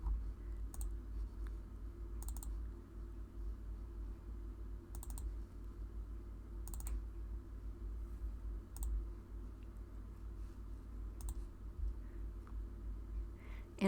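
Mouse clicks in an image editor, a handful of sharp, isolated clicks spaced a second or two apart over a steady low hum, with no talking.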